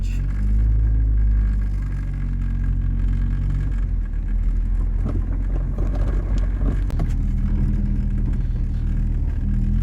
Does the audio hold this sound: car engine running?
yes